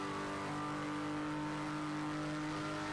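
Turbocharged four-cylinder car engine in a racing video game, held at a steady, droning pitch throughout with no talk over it.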